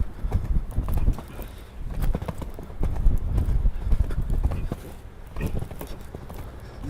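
A horse in a riding training session clip-clops in a steady rhythmic gait, hoofbeats close and distinct over a soft arena surface, with no talking.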